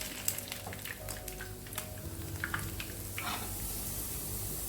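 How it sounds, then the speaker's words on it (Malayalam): Prawns frying in hot oil make a close, even sizzle with scattered crackles and light spatter, steady throughout with no talk. "ഇതുപോലെ തന്നെ ബാക്കിയിരിക്കുന്നത് നമുക്ക് ഫ്രൈ ചെയ്തെടുക്കാം."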